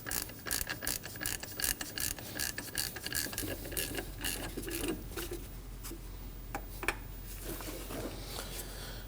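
A ratchet wrench tightens the crankshaft bolt on a 2003-2006 Subaru Baja during a vibration damper replacement, giving rapid bursts of sharp metallic clicks up close, then slower scattered ticks as the bolt snugs down.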